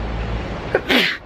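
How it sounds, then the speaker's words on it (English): A person lets out a single loud, sharp sneeze near the end, preceded by a brief inhaled catch over a low background hum. "Sorry, I gotta sneeze."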